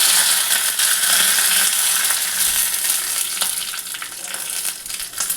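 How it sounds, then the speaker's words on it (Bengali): Mustard seeds, a dried red chilli and curry leaves crackle and sizzle in hot oil for a dosa chutney tempering, a dense steady frying hiss with scattered sharp pops, close and continuous. "তেলটা গরম হয়ে গেছে, তেল সর্ষে দিয়ে দিলাম, একটা শুকনো লঙ্কা দিলাম"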